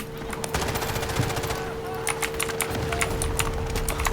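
Rapid automatic gunfire from a Delta Force firefight, bursts of shots rattling in quick succession throughout, close and loud, with voices talking over parts of it.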